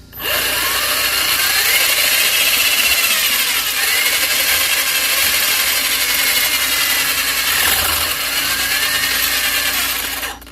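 Hobao RC car engine running in reverse on a bench test, a loud, steady high-pitched whine holding nearly constant for about ten seconds, with a rough mechanical rasp and no voices.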